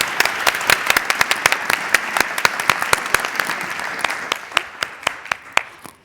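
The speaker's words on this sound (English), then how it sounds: "can we give a round of applause for both?" An audience at a luxury industry panel talk claps for the speakers: many hands strike close together at first, then thin out into a few scattered, slowing claps that fade away.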